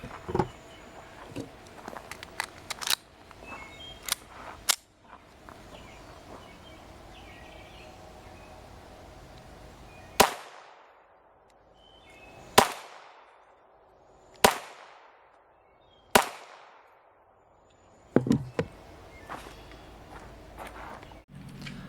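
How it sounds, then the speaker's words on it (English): Four sharp .22 Long Rifle gunshots crack out at roughly two-second intervals from about 15 yards, each loud and close with a short ringing decay, after quieter rustling and small clicks. "let's see how 22 long rifle fares at about 15 yards"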